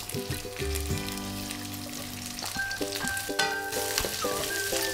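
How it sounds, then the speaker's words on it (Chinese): Snow peas stir-fry in a hot wok with garlic, a sustained sizzle and scraping stir under steady background music, with no talk. "荷兰豆下锅炒。"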